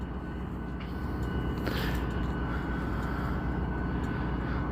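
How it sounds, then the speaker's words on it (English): A train passes nearby with a steady, loud rumble and roar that holds evenly throughout, with no talking. "just so I can get the sound of the train going by."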